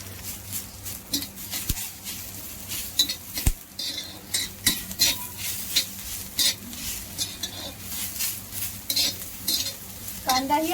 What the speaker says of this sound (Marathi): 1 चम्मच तेल घेतलं आहे, त्यामध्ये कांदा भाजून घेऊया।